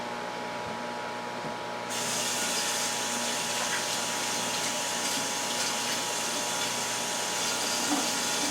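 Tap water runs steadily into a kitchen sink during handwashing, a continuous broadband hiss that grows fuller after the first couple of seconds and holds even to the end.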